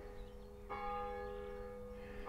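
A church bell rings in the distance in the English countryside, its sustained metallic tone struck again partway through, over a low rumbling background.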